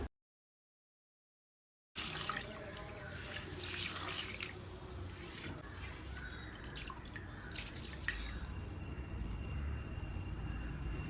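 Rice being washed by hand in water in a home kitchen: a steady wet sloshing and dripping that starts after a short silence and continues close and even throughout.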